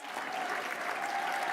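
Steady, dense applause fills a dinner banquet room as the crowd honors the Sisters of St. Joseph, an even wash of many hands clapping without letup.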